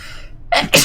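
A woman sneezes twice in quick succession, two sharp bursts close to the listener after a moment of near silence, with no talking.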